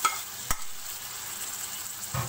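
Chopped tomatoes drop into softened onions frying in a pan. A soft, low sizzle runs throughout, with a sharp thump near the start and a burst of louder frying at the end.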